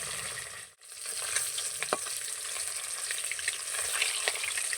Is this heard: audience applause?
no